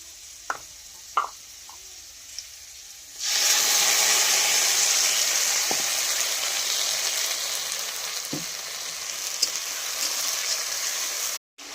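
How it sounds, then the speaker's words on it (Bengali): Potatoes dropped into hot oil with fried cumin seeds burst into a loud, steady sizzle after a few quiet utensil taps, holding a dense frying hiss for several seconds before cutting off. "এই যে ভাজা ভাজি হয়ে গেল জিরাটা, আলু দিয়ে দিলাম।"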